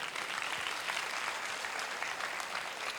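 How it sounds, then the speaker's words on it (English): Audience at a live talk event breaks into a big round of applause, dense steady clapping filling the room throughout with no voices on top. "Big round of applause."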